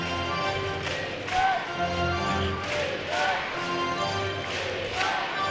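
Crowd noise fills a basketball arena at an NBL Canada game, a steady roar of cheering and shouting with rises and falls, heard at a distance without a clear break.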